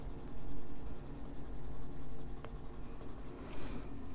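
Albrecht Durer watercolor pencil in cadmium orange colouring on paper, a soft continuous scratchy scraping of the lead held close and steady, with no talk.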